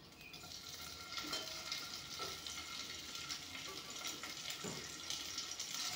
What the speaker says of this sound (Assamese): মাছখিনি অলপমান ভাজি লওঁ।